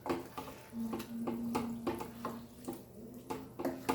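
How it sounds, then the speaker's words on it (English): Water pours and splashes into a pot of cooking masoor dal in short repeated bursts, close by, with soft drips and faint clinks between them. "we will add water to this."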